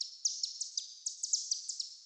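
Quick, quiet synthetic tweets flicker in a steady skipping pattern, high and thin, repeating about a dozen times with nothing else underneath.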